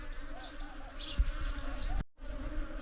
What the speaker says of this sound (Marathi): भरपूर भरपूर मधमाशा आल्या.